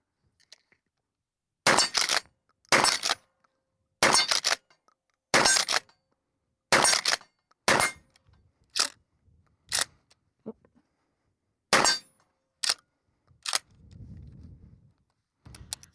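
Shots of 1,500 fps slugs from a Cyelee Chameleon striking steel targets: a run of about a dozen sharp, cracking reports at uneven intervals, close and loud against a quiet background, with brief pauses between groups.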